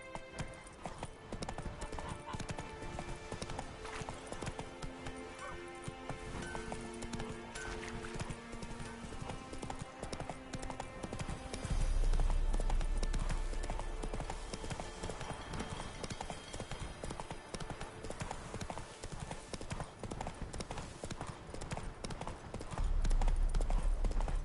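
Horse hooves clip-clop steadily in The Witcher 3 on PS5, a continuous rhythmic trot heard close up with a couple of louder, heavier swells.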